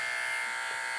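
A newly unboxed Andis eMERGE detachable hair clipper runs with a steady, even electric buzz, close and continuous for the whole moment, with no voices over it.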